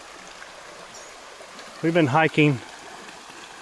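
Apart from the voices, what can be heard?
creek water flowing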